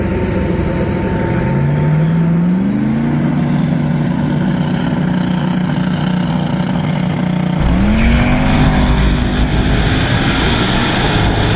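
A 1980 Trans Am small-block V8 with a blow-through carburetor launches, tires spinning, its loud engine roaring and climbing, then dropping and surging again, close and steady with no talking.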